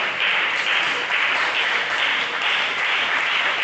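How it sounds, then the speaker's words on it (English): Steady, dense applause from a conference audience giving a professor a standing ovation, sustained and fairly loud throughout with no pauses. "I think Prof deserves a round of applause. The standing ovation"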